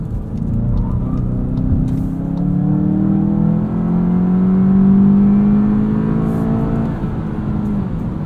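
A 2020 Volkswagen Jetta GLI with a six-speed manual accelerates hard on the Autobahn, its engine a loud, droning hum rising steadily in pitch from inside the cabin.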